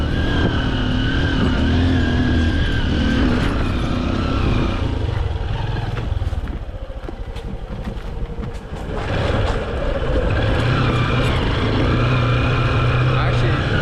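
A Honda XR 150 motorcycle rides off-road on trails, its engine droning steadily close by with a dip in the middle, while a voice talks over much of it.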